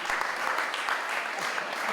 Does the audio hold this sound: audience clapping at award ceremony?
yes